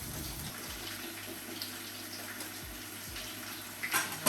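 Thick-cut potatoes for a Spanish tortilla fry in hot oil with a steady, bubbling hiss held close and fairly quiet, rising briefly with a stir near the end.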